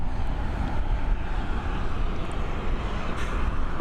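Steady, loud broadband roar of a Boeing 737 taxiing at Dublin Airport, a continuous distant engine rumble with wind buffeting and no distinct events.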